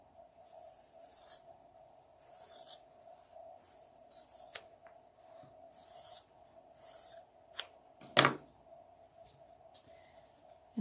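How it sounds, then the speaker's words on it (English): Scissors snip through sewing fabric in a series of short, crisp, close cuts, with one loud, sharp snip near the end over a faint background hum. "And cut in half again."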